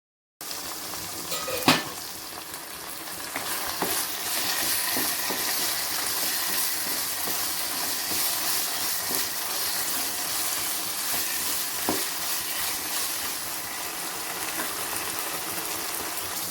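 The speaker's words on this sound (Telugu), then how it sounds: "టమాటాలు ఇలా బాగా కలుపుకున్న తర్వాత ఇలా మూత పెట్టి బాగా మగ్గించుకోండి" Tomatoes frying in oil in a pan, being stirred: a steady, dense sizzle runs throughout, with a sharp clink of the utensil against the pan near the start and occasional faint scrapes.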